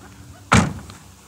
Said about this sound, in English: And I want to show you the sliding doors.